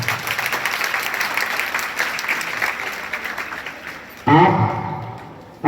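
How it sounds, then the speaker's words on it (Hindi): An audience in a school hall applauds the chairman, dense sustained clapping from many hands, then a louder burst of nearby clapping toward the end, with voices mixed in. "जोरदार तालियां चेयरमैन सर के लिए।"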